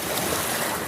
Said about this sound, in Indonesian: Jadi ombaknya lumayan nih